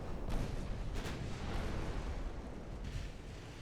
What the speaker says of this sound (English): And we got torpedo launch.